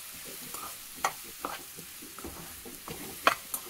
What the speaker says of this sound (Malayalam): ഒന്ന് ഇട്ട് കൊടുത്തതിന് ശേഷം നമുക്കിതൊന്ന് ഇളക്കി കൊടുക്കാം കേട്ടോ.